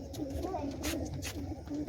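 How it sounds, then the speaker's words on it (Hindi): Pigeons coo softly inside a loft holding about 110 birds, low rolling calls repeating close by and faint, with flutters and rustles mixed in while people talk. "ये कितने कबूतर है इस डरबे के अंदर?"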